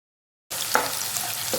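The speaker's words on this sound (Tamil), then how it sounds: "பூண்டு வெங்காயம் சேர்த்து நல்லா வதக்கிக்கோங்க." Small onions and garlic sautéing in a pan for a thoodhuvalai kuzhambu, a steady close frying sizzle that starts abruptly after a short silence, with a light clink of stirring partway through.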